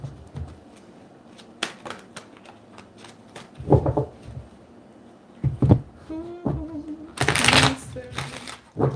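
Playing cards are shuffled in a few quick riffling bursts, with soft handling and tapping sounds in between.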